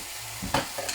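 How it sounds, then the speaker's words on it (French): A seasoning packet being stirred into ground meat in a pan, giving a short close scraping and sizzling with a couple of brief spoon strokes over a low frying hiss. "Donc, je mets le sachet dans ma viande hachée ici. Je vais venir mélanger, évidemment."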